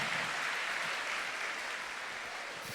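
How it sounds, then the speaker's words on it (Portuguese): Congregation applauding during a Catholic Mass, a continuous dense patter of clapping that holds steady and fairly loud for the whole stretch. "eu queria que você desse um aplauso para esse irmão que está do seu lado"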